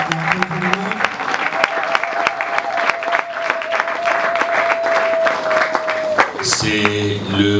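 A church congregation applauding the Lord, dense sustained clapping from a large crowd, loud throughout, with a held tone over it, and the clapping tapering off at the end.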